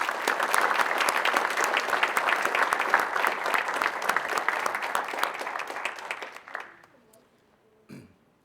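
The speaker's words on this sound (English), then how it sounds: "I want you to join me in giving them a well-deserved round of applause" A local historical education society's meeting audience gives a steady round of applause, dense clapping for about six seconds before it tapers off to near silence, followed by a short faint noise.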